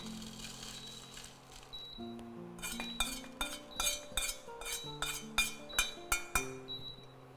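Roasted ingredients for a Tamil drumstick-leaf appam and brinjal sodhi dish tipped from a kadai onto a plate, giving a run of bright, close clinks and taps that speed up and cluster toward the end.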